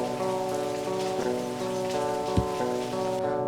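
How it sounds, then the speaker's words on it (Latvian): Rain falling outside, a steady even patter that carries through the whole stretch with one brief louder knock partway through, no voices. "ārā ir lietus, smuks, bet lietus"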